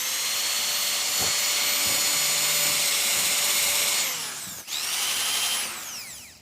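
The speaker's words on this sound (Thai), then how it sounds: "ครับแล้วก็เจาะไปเลยนะครับ" A power drill whines steadily while boring into a table top, a sustained high buzz that slows, briefly stops, then spins up again before trailing off.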